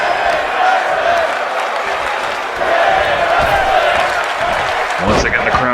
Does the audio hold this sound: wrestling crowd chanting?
yes